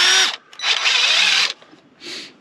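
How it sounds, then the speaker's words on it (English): A Ryobi half-inch impact driver runs in three close, loud bursts: a short whir, a longer spin of about a second, then a brief final burst, with quiet gaps between them. "the Ryobi half inch impact driver"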